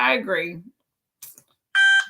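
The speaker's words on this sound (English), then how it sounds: "Oh, it's an alarm." An alarm goes off during a casual conversation, starting with a short faint chirp and then a loud, steady electronic beep, heard after a voice speaks.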